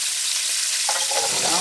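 Green beans tumble into a pan of lamb navarin and set off a loud, steady sizzle that swells partway through, with a brief stirring scrape near and close throughout.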